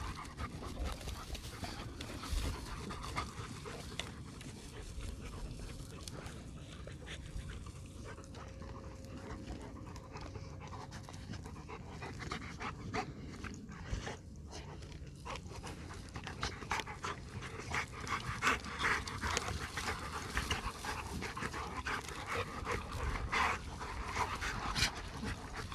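Several dogs pant steadily and rapidly for a long stretch, close and fairly quiet, with occasional faint whimpers and rustling movement as they play together, and no talking.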